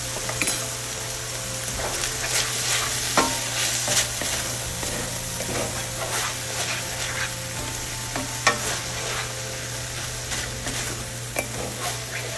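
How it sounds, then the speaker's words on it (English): Ginger is stirred into egg roll in a bowl while it sizzles loudly and steadily, with a utensil scraping and clinking against the pan in irregular strokes close by. "we're going to add 1 tablespoon of ginger. We're going to stir this in really well"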